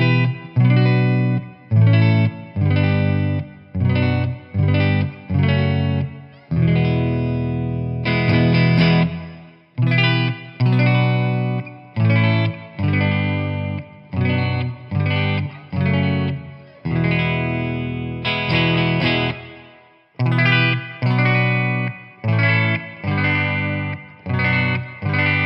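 An ES339 electric guitar plays clean tones through a Bad Cat Black Cat amp and a Celestion G12H Redback 150 W speaker, in strummed and picked chords with short pauses between phrases.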